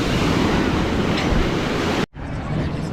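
Sea waves at Tannirbhavi Beach in Mangalore, a loud, continuous surf roar mixed with heavy wind buffeting that cuts out abruptly for a moment near the end, then resumes more quietly.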